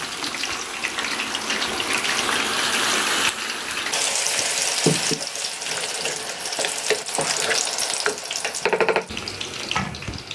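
Tomato sauce poured into eggplant frying in a pan for moussaka, a steady loud hiss and gush of sizzling liquid throughout with a few scraping clinks, no talking.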